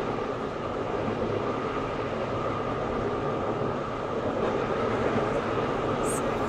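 A Roblox train rolls into Morganstown Docks station with a steady, loud rumble of rail noise that holds throughout, with no speech.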